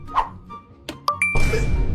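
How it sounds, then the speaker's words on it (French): A phone rings with a short series of bright electronic tones, then a sustained ringing note over a burst of background noise, heard close and fairly loud. "Y'a pas ton téléphone qui sonne là?"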